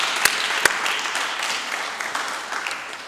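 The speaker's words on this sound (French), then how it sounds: "On peut applaudir." Applause in a parliamentary plenary chamber as senators clap after a resolution is adopted, a brief burst of mixed claps with a couple of sharp louder hits, fading slightly.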